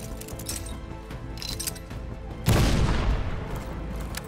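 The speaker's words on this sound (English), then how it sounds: "That is a minigun." Heavy automatic fire from a minigun in the Call of Duty: Black Ops Cold War video game, a sudden loud sustained burst cutting in partway through over a steady game soundscape.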